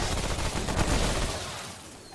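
Rapid gunfire from a weapon in the co-op shooter game Remnant: From the Ashes, a dense burst of shots that stays loud and then tapers slightly near the end.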